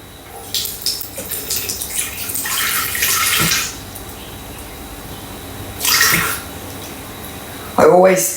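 Water pours in short bursts into a Thermomix bowl, three separate splashing pours close by, with a brief clatter at the end and quiet gaps between.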